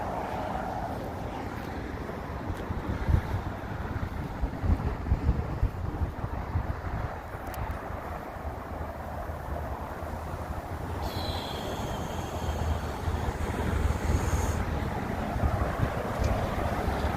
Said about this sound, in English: Now the wind's kicking up.